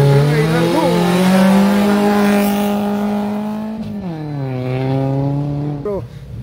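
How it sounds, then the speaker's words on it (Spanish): A rally car, number 29, launches from the start of the first special stage at Rally Pisco 2024 in Peru, its engine revving loudly and rising in pitch through the gears, close by and under an excited commentator's voice. "Va a largar, va a partir el coche número 29 y largó."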